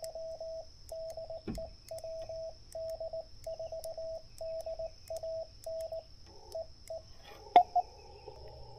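Faint ham radio transmission during a CW activation, with a steady, repeating pattern of short Morse tone pulses from another station on the same frequency, over a quiet background hiss.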